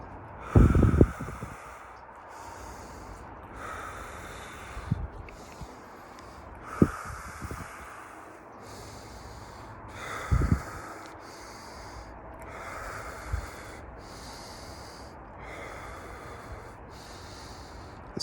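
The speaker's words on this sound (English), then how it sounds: "This breathing helps stimulate DMT, filling us with energy." Forceful breathwork: a long run of sharp, rhythmic in-and-out breaths, close and airy, each burst separated by a short pause, with a few heavier snorting puffs.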